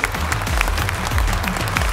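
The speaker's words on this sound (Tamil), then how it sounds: "மீண்டும் ஒரு பெரிய கைத்தட்டல் தந்துடலாம் சாருக்கு" A crowd at an awards ceremony applauds a vice chancellor with steady, busy clapping throughout, while low rumbling tones run underneath.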